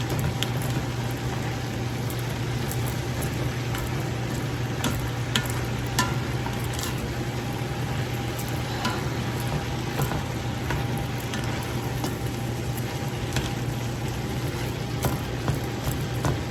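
Cabbage pieces sizzle in butter in a pan, making a constant loud frying hiss with scattered light clicks from tossing and stirring, and no one talks.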